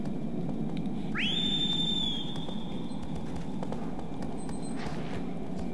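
The horse Agro gallops in the video game Shadow of the Colossus, a steady rush of hoofbeats under a sharp rising whistle and a low background rumble.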